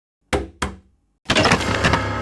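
Two sharp, separate knocks land on a door, close and loud, followed by a dense clatter or rattle that carries on to the end.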